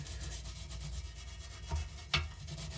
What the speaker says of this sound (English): I take my brush and I'm just going to brush away